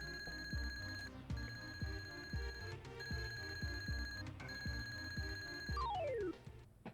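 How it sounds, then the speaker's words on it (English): Mobius, the giant alarm clock boss in the Super Mario RPG video game, rings in loud repeated bell bursts over a ticking, thumping rhythm, ending in a falling electronic glissando. "The giant alarm clock known as Mobius?"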